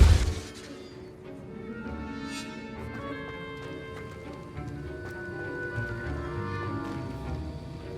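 In Hogwarts Legacy, a Depulso spell blasts objects apart, opening with a sharp shattering crash up close, then giving way to a sustained layered in-game ambience of tones and faint clattering.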